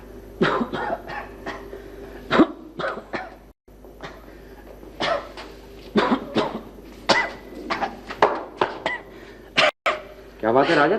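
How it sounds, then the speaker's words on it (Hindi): Repeated harsh coughs break out in short bursts, close and loud, with brief pauses between fits and some talking mixed in. "तुझे खांसी बहुत आने लगी है?"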